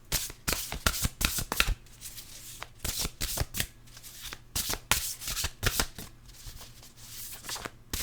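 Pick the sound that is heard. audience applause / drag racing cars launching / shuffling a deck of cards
shuffling a deck of cards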